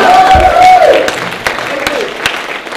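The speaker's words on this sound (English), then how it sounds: "Everybody stand and give Daniel a big cheer" An audience at a motivational talk breaks into applause and cheering for the speaker: a loud crowd swell with scattered sharp claps that thin out as a voice talks over it.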